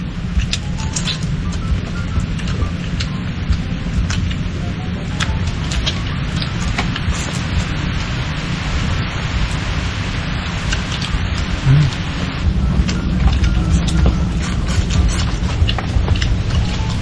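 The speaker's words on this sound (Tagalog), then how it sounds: "Ngayon mga kalab, umuulan na po siya." Steady heavy rain falling, a dense constant hiss with low rumbling underneath throughout, with no distinct thunder crack standing out.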